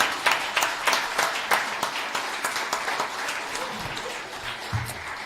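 Audience applause at a church annual meeting, a dense run of many hands clapping at moderate distance that holds steady and then thins toward the end, with no voices over it.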